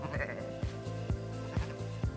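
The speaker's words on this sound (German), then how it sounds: "Bei den angenehmen Temperaturen fühlen sich die kleinen und großen Schafe der Schäferfamilie Fauser ziemlich wohl." Several sheep and lambs bleat on a summer meadow on a sheep farm, their calls coming in a steady rhythm roughly every half second, close and clear over a soft background.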